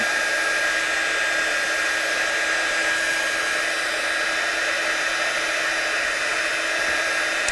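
A hair dryer runs continuously and steadily, close and loud, drying freshly stamped and watercoloured Christmas cards, with a constant broadband whoosh and no voices.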